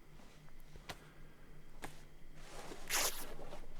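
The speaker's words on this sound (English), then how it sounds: "so let's cut up some rags" Rags being cut up in the survival game DayZ, heard as a scratchy tearing and rustling burst about three seconds in, after a few faint ticks over a quiet backdrop.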